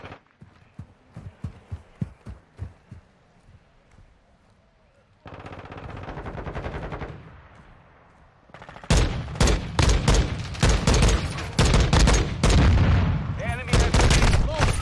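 Gunfire in the 2022 Call of Duty: Modern Warfare 2 game: a run of sharp single shots, a denser rumbling stretch, then loud rapid automatic bursts, with a player's voice talking over the action.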